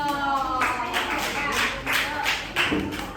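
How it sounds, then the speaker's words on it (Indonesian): Classroom students clap in a short burst, a handful of quick, uneven hand claps close by with a few thumps mixed in. "Tepuk tangan untuk Ridho."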